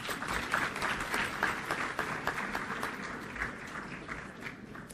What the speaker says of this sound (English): Round of applause for our parents, students.